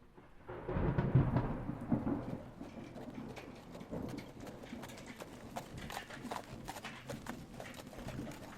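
Horse hooves clip-clop faintly through a stormy night, mixed with low thunder rumbles and rain. The thunder swells early and then settles into a steady, soft wash.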